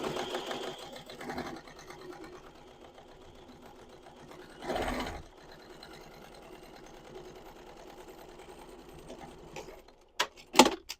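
A sewing machine runs steadily for about ten seconds, stitching a tote bag's side seam along a quilting guide, then stops; a few sharp clicks and knocks follow near the end.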